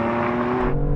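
Sports cars, a BMW M2 CS, an AMG A45 S and an Audi RS3, accelerate hard side by side in a drag race. Engines roar loudly and steadily through a brief burst with no speech.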